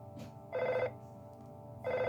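Electronic telephone ring from the SNES role-playing game EarthBound: two bursts of bright, buzzy chirping, separated by a short pause, loud and close over quiet game background.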